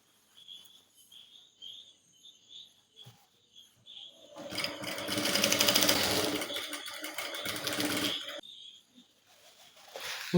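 A sewing machine stitches a pant seam in one loud continuous run of about four seconds, preceded and followed by quiet chirping insects or birds in the background.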